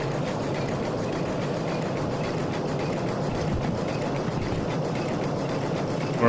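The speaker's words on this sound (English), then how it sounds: "Feel this engine roar." A steam locomotive in the Derail Valley train simulator game runs under added power, producing a steady, dense mechanical roar that stays loud and unbroken throughout with no speech.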